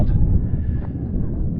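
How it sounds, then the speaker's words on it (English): Wind blows across open desert in Joshua Tree, a low rough rumble buffeting the microphone, steady and close for under two seconds. "it's windy"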